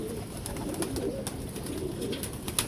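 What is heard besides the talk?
pigeons cooing during pigeon keeping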